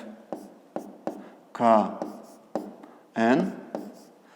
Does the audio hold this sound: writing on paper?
yes